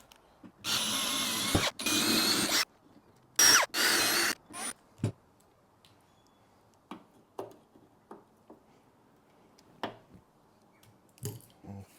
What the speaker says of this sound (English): you've got these 4 rivets which need to be drilled out